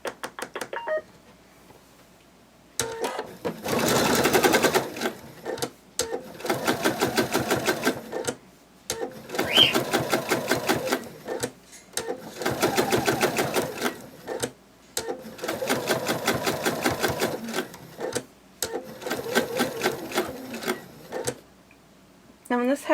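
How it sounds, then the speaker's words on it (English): A sewing machine set to its longest stitch runs a loose basting stitch around a bunny plush, in several bursts of rapid, loud, rhythmic clatter separated by brief pauses, close up. "set your sewing machine so it has the longest stitch length possible"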